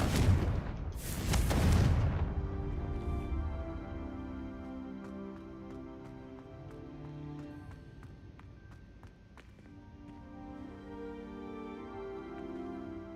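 Confringo blasting spell in Hogwarts Legacy: a single sharp burst near the start, loud and close, then a long ringing, decaying tail with scattered taps and light debris.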